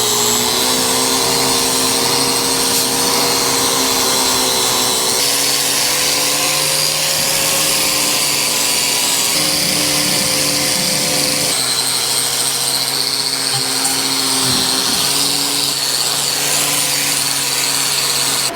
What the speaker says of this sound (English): So we're just cleaning the paint off so we can weld these guys on.